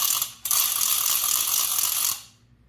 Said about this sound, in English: This awesome noise maker, which is great for New Year's Eve.